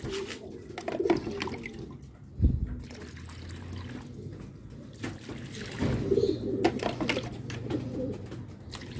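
Racing pigeons confined in a truck coo and rustle on and off over a steady low rumble, with a sharp knock partway through and a brief splash or trickle of water, no voices.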